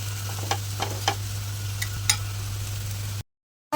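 Dhapata flatbread cooking on a hot griddle, a steady low hiss with a strong hum and several soft ticks and scrapes spaced through the clip, then a sudden cut to silence near the end.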